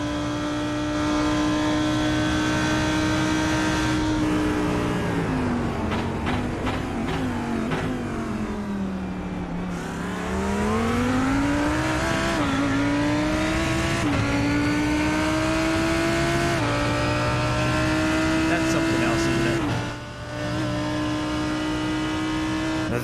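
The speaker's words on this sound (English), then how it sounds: "I want to stay quiet and just let that V10 engine do its work." An Audi R8 V10 race car engine on track in an endurance series race, loud and close throughout, repeatedly revving up through the gears with sharp shift dips and a brief lift near the end, no talking.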